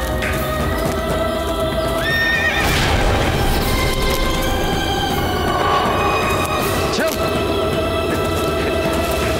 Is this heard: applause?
no